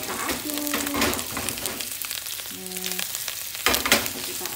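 Tofu and garlic sizzling in a pan while being stirred, a steady fry with scraping stir sounds and faint speech underneath, close and moderately loud.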